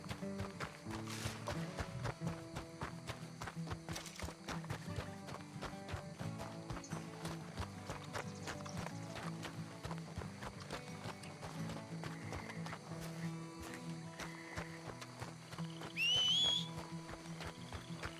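Rapid clip-clop of horse hooves in Red Dead Redemption 2 keeps up a steady galloping rhythm throughout, close and prominent, with a brief whinny near the end.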